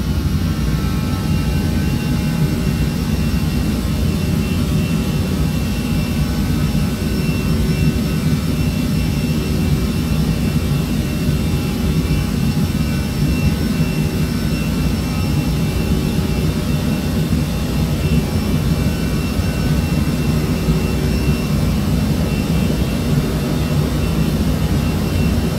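Airbus A320 jet engines held at climb thrust in the Prepar3D flight simulator, a steady, loud, continuous roar with a deep rumble and airy hiss that stays constant throughout, no voices.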